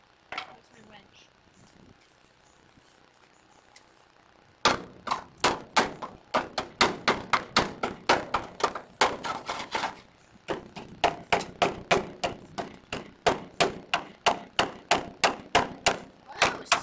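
Hammer blows ring out in fast, sharp, evenly spaced bursts on a metal part being prepped for welding, loud and close, starting after a quiet stretch and pausing briefly midway.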